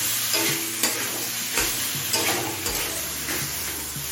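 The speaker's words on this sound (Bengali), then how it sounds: "এখন আদা রসুন কাঁচা বন্ধ চলে যাওয়া পর্যন্ত কষিয়ে নিতে হবে" Ginger and garlic paste sizzles and fries in a pan while a spoon stirs it in repeated scraping strokes, loud and close with no talking, for a Bengali cabbage dish with fish head.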